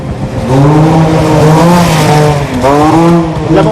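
A small, light Dakar rally racing car drives past at speed, its engine roaring loud and close with sweeping pitch changes as it accelerates and shifts, no voices over it.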